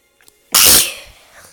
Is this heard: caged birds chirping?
no